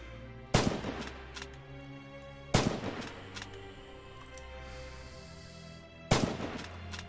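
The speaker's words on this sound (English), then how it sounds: "Don't forget to bolt the rifle after each shot," Three loud, sharp rifle shots ring out a few seconds apart in the video game Red Orchestra 2, each followed by a decaying echo, with quieter mechanical clicks between them.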